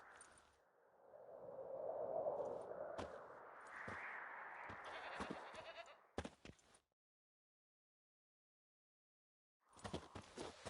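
A goat tied to a stake as forktail bait in The Witcher 3 bleats in a long wavering cry lasting several seconds, broken by clacking impacts, then silence before a few more scattered knocks.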